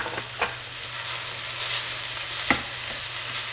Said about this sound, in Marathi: आणि परत ते 2 मिनिटं थोडे फ्राय करून घेऊया